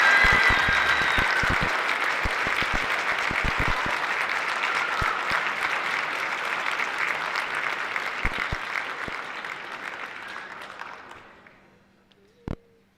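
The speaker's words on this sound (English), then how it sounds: "Take a round of applause for our leadership in our JPD." An audience at a Jackson Township council meeting applauds, steady close clapping that holds for about eleven seconds and then fades out, followed by a brief knock.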